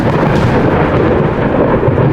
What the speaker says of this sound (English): shattering the noise louder than everything else is a sound of essentially thunder